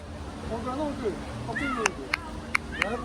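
A cat meows several times outdoors in Khor Fakkan, its rising and falling cries carried under people chatting nearby, with a few sharp clicks near the end.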